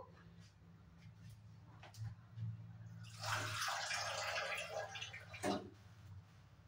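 Water poured into white vinegar in the kitchen while making rasgulla, a brief splashing pour in the middle over quiet background hum with faint clinks.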